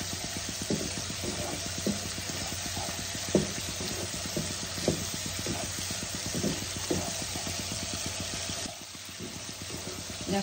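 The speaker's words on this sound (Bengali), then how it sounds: "মশলাটাকে আমি ভালো করে কষিয়ে নেব।" Spice paste for Boroli fish curry fries in a pan with a continuous dense sizzle, broken by regular soft knocks of a spoon stirring at a steady rhythm. The sizzle grows slightly quieter toward the end.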